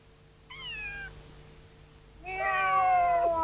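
A person imitates a cat's meow, first a short falling mew, then after a pause a longer, louder, strained meow, alone in a quiet setting.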